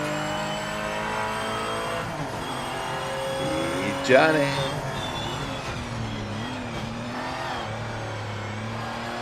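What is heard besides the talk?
race car engine and tyre squeal in Project Motor Racing video game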